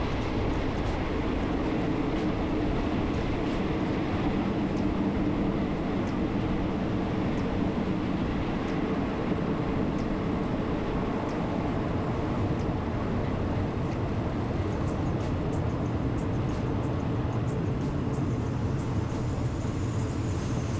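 Thai passenger train number 135 riding the rails between Saraburi and Kaeng Khoi Junction, heard from inside as a steady, loud rumble and rattle of wheels and carriage with no pauses and no talk.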